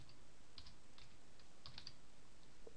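Faint, close computer keyboard clicks typing text, a handful of scattered keystrokes and short quick runs over a steady background hiss.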